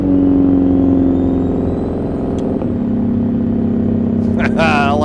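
Close to a Peterbilt truck with an 800 hp tuned Cat C16 and 8-inch straight pipes, its deep exhaust roar holding steady and loud throughout, with a brief hiss near the end.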